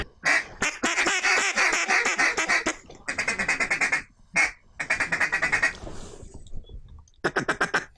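Northern shoveler ducks call at a waterfowl hunt in Arkansas, with loud, close bursts of rapid quacking in several runs separated by short pauses.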